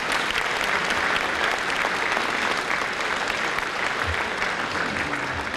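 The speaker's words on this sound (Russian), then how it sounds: "Аплодисменты, пожалуйста." Steady, dense applause from a concert audience at a Moscow song festival, loud and sustained throughout, with faint voices mixed underneath.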